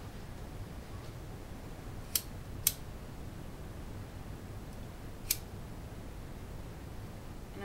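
Scissors snip through craft material three times, sharp crisp cuts standing out against a steady low room hum.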